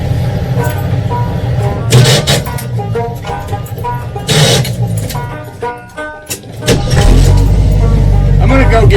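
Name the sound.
1983 Jeep CJ7 engine running, idling to defrost windshield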